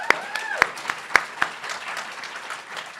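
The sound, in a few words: applause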